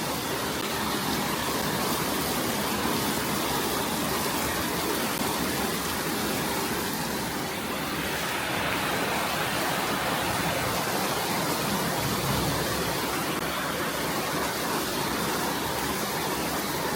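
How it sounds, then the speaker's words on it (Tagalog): Heavy rain pours down in a dense, constant roar with a hissing wash that holds steady and loud throughout, with no voices. "ang lakas ng ulan"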